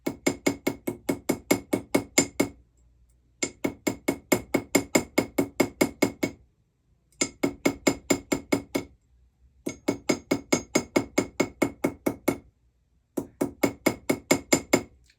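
A small hammer planishes the seat of a metal ring with rapid, evenly spaced ringing taps, struck in five steady bursts of about a dozen blows each, separated by brief silent pauses.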